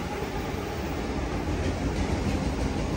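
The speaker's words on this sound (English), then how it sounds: "That's a Union Pacific auto rack train." A Union Pacific auto rack freight train rolls past a station, a loud, steady broadband rumble of wheels and rail cars with no breaks.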